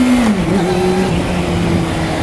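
A motorcycle engine revs loudly and close, its pitch dropping then holding at a steady drone, with no talking.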